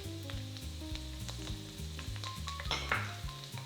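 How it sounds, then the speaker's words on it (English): Food sizzles and crackles steadily in a pan, partly buried under a loud backing track of music with a pulsing bass line. "I'm going to let it sizzle again."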